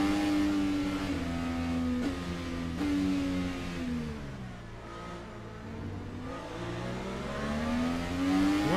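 Race cars racing on the Detroit Belle Isle street circuit, a continuous engine drone whose pitch rises and falls as the cars accelerate and brake through the corners, moderately loud and without any voices.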